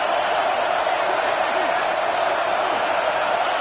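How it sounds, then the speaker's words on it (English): A stadium crowd roars at a college football video game featuring UCLA during a third-down play in the red zone, a dense and loud wall of cheering that holds level the whole time. "this crowd is at fever pitch"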